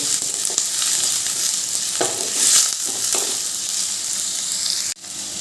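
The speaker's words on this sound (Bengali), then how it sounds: "তেলে দিয়ে দিলাম পেঁয়াজগুলো তেলে দিয়ে দিয়েছি এবার একটু ভালো করে ভেজে নেব" Chopped onions fry in hot oil with a loud, steady sizzle that holds evenly throughout, with a brief break near the end and no talking.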